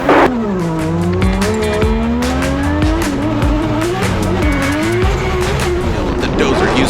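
A Permatex BMW drift car on GT Radial tires howls under a loud, sustained engine note with continuous tire squeal throughout, a commentator's voice riding over the roar.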